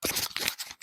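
Wood stock being cut out along a traced pattern for a boat's rub rails, heard as a close run of rough, rasping cutting strokes with brief pauses and no talking.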